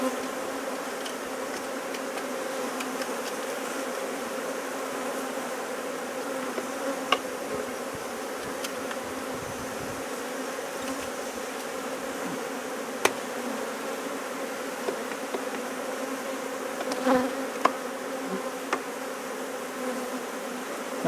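Honey bees in an open Smith hive hum steadily and densely, a continuous close drone with occasional small clicks and knocks of frames, and no voices.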